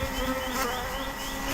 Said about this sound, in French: Il y a des abeilles dessus, ça travaille.